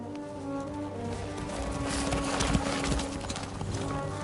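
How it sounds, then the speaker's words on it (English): Horse hooves clip-clop steadily at close range in a medieval video game as a horse is brought out through a gate, with a faint whinny-like sound and some background ambience. "And fetch him his horse."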